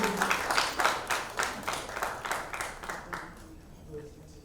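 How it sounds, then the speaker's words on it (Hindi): Applause at a press conference: a crowd claps in steady, rapid bursts that gradually fade over a few seconds, loud at first and tapering off. "जोरदार तालियां हो जाए टिट्टू के लिए"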